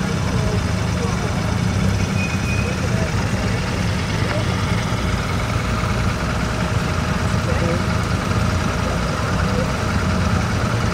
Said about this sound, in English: Very torquey, quite a powerful tunable engine, that B-series engine, probably a B18, the 1800cc engine